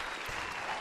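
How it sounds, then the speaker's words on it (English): A brief, steady burst of applause from a studio audience honoring a contestant on a Who Wants to Be a Millionaire-style quiz podcast, close and dense throughout its under-one-second span. "let's have a round of applause for Alexandra Renders."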